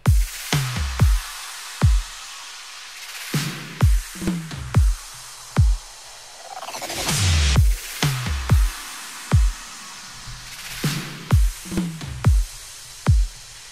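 Punchy electronic drum loop with kicks, sharp claps and a rising white-noise sweep midway, looping steadily with no voices.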